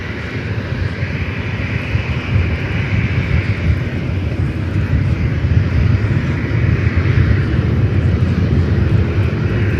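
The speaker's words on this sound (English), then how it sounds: "that's Delta Airlines 360 coming in from Atlanta" A Delta Airlines passenger jet arriving from Atlanta at LAX gives a steady, broad engine roar that holds at even loudness throughout, with no voices over it.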